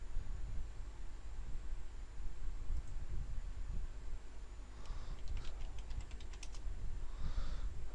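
Typing on a computer keyboard while entering values into a spreadsheet: a near, steady patter of key presses across the whole stretch, over a faint background hiss, with a quicker cluster of clicks toward the end.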